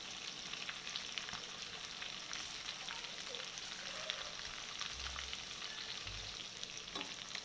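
Chicken pieces fry in a pan for chicken roast with a steady, soft sizzle and crackle, faint and continuous, with a couple of low knocks near the end and no talking.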